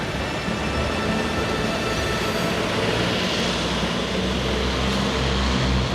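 Metro train rumbling steadily through an underground transit tunnel in Seattle shared with buses and trolleybuses, a loud continuous roar that stays even throughout with no voices.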